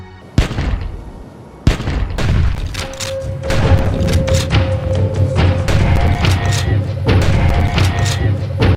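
Loud gunshots boom in a dinosaur-hunting video game, with two sharp reports followed by a dense rumbling barrage of shots and thuds over a steady low drone.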